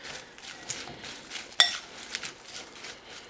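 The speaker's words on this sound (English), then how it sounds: "I'm just going to give that a mix." Hellmann's vegan ranch dressing being stirred in a dish, soft scraping and swishing strokes repeated in a loose rhythm, punctuated by one sharp clink of utensil on the container midway, faint and close.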